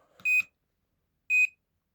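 Two short electronic beeps from an airsoft bomb prop, about a second apart, with silence around them, clean and close.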